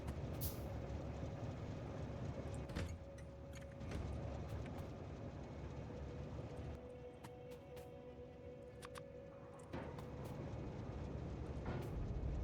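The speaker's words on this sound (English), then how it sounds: "Hello, lubricant train." Train rumbling along steadily in the factory-building game Factorio, a lubricant train giving a continuous low mechanical drone with a faint sustained tone, brief clunks and short gaps, heard alone without talk.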